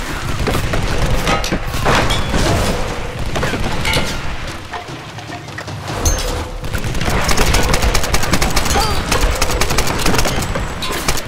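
Rapid gunfire and booming explosions from a combat scene in the video game Tomb Raider (2013) fill the mix, with bursts of shots, thuds and dense clatter continuing loudly throughout.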